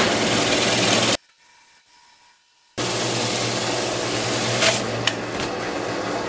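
Steady, loud abrasive rubbing with a constant motor hum as coarse-grit sandpaper works a butternut wood bowl on a lathe, broken by a short pause before the whirring friction resumes.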